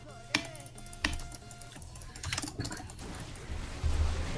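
Keyboard and mouse clicks tap in a sparse, uneven rhythm during a League of Legends match with Morgana support, close and fairly faint over low game background noise.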